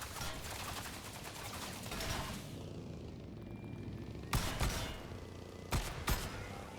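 Shotgun fire from a vehicle in Trailmakers, a rumbling stretch of rapid gunfire followed by a quieter pause, then two pairs of sharp heavy blasts near the end.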